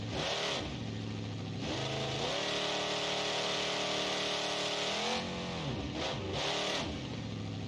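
Monster truck engine from the BeamNG.Drive video game with CRD 3.0 engine sounds, revving up and down repeatedly with a droning idle between rises, loud and close with no talk.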